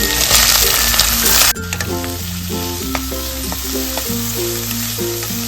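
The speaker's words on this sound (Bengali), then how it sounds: "ফুলকপি ভাজা তেলে আমি আদা কুচি দিলাম রসুন কুচি দিলাম এটা একটু ভাজা ভাজা হলে" Chopped ginger and garlic fry in hot oil left from frying cauliflower, a loud close sizzle with stirring clinks and scrapes, no talk.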